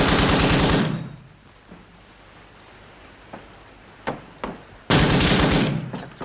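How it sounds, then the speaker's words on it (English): A submarine fires its gun toward the shore in a 1943 wartime film: a loud burst of rapid shots, a lull with scattered distant thuds, then another sharp loud volley. "He's firing inshore."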